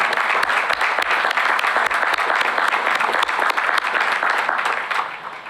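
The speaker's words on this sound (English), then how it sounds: "I don't blame you for applauding there either." Commencement audience at Randolph-Macon College's 2016 ceremony applauding: loud, full crowd clapping with a few low thumps mixed in, sustained throughout and tapering slightly at the close.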